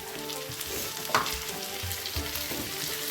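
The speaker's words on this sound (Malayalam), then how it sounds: "ഞാനിവിടെ ഒരു തക്കാളി എടുത്ത് ചെറുതായിട്ട് കട്ട് ചെയ്തത് ഇട്ടുണ്ട് അതൊന്നിട്ട് കൊടുക്കാം" Chopped tomato drops into a pan of frying masala, raising a steady sizzle with a sharp burst of spattering near the middle and faint stirring scrapes, close by and with no talk.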